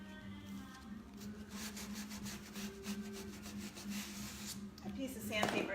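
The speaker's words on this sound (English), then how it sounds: "This is a fine grit sandpaper." Fine-grit sandpaper rubbed by hand over a decoupaged surface, a rhythmic series of soft, raspy back-and-forth strokes, close and moderately quiet, ending in a brief louder scuff.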